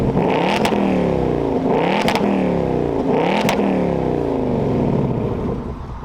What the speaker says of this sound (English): here's the exhaust in track mode